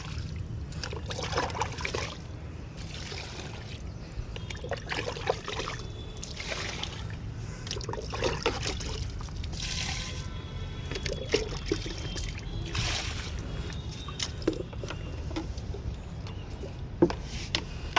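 Liquid plant booster poured from a mug onto potted plants in small tubs, a soft, steady trickle and splatter into the soil repeating for the whole stretch over a low background rumble.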